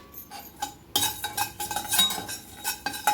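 A metal spoon stirs fenugreek and coriander seeds roasting dry in a pan, giving quiet clinks and scrapes in an uneven rhythm, close and fairly soft.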